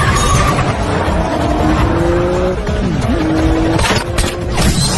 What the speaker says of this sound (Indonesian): mobil Samsul pun kehilangan kendali saat Daeho menembaki bannya sampai menabrak drum